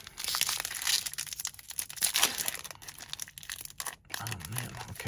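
Crinkling and tearing of the foil wrapper on a Lord of the Rings Magic: The Gathering booster pack as it is pulled open, a close, busy rustle with sharp crackles and a short pause near the end.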